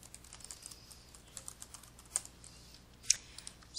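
Keystrokes on a computer keyboard while entering data into an Excel spreadsheet, quiet and sparse clicks with two sharper louder taps, close by with no talk.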